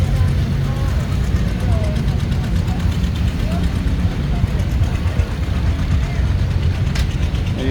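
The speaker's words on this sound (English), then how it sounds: "it's providing steam to this steam engine, which is turning that flywheel, which is running that belt." Steam engine at an antique tractor show idling as it turns a flywheel and drive belt, a constant loud rumbling chug with a busy outdoor wash, people talking over it.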